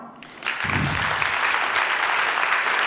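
An audience in the Théâtre Le Prisme breaks into loud, sustained applause after a brief quiet moment, and the clapping stays dense and steady to the end.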